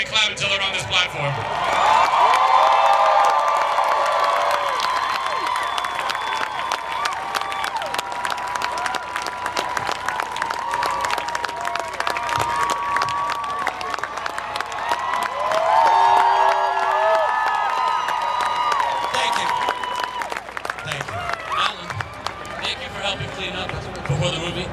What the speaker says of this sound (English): You better keep cheering and clapping until they're on this platform.